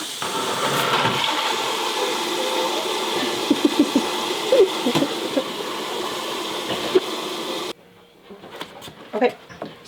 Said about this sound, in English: Fill up the rest of the bucket. More hot water